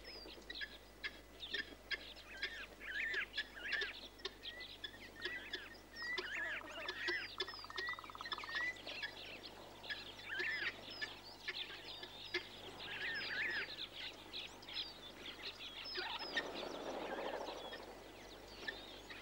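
Water birds at a waterhole, fulvous tree ducks and Cape teal among them, calling in a busy chorus of short honking and squawking notes, moderately close, with a brief splashing burst near the end.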